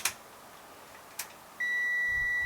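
A Zotek ZT219 digital multimeter gives a steady, high electronic continuity beep that starts partway through and holds, following a couple of faint clicks from the probes.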